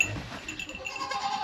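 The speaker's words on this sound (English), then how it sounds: "She's a big goat." Large female goat bleating faintly during a birth on a farm, a low thin call under quiet background noise.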